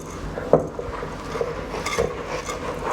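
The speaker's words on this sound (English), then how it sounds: "now we're just gonna pump in our chocolate chips" Chocolate chips being mixed into cookie dough in a bowl, giving soft scraping and rubbing with a few light knocks of the utensil against the bowl, close and fairly quiet, with no voices.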